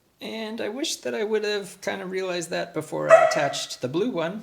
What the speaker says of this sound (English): Sorry about my barking dog.